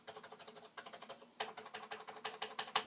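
Rapid, uneven key presses on a dirty Commodore VIC-20 keyboard, a steady close patter of clicks with a few brief pauses and louder bursts.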